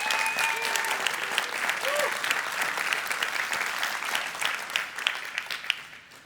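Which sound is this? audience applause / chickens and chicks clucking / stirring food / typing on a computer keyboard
audience applause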